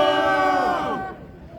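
A crowd raises a loud, sustained cheer and shout at an outdoor press conference in front of the Cheong Wa Dae presidential office, the voices swelling together before trailing off after about a second.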